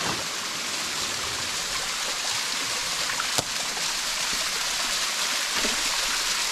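Steady broadband rush of a waterfall at Mowers Waterfall, a continuous dense roar of falling water filling the whole clip, close and even, with no voices over it.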